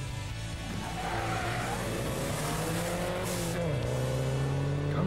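Orange BMW rally car at an autumn rally, engine roaring loudly nearby as it passes in a slight drift, revs rising and falling with a faint tire squeal.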